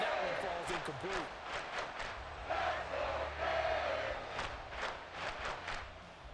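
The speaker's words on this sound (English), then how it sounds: "this crowd is making an impact right now" A stadium crowd in the Madden NFL 24 football video game roars with steady, loud cheering and shouting throughout, under a commentator's voice.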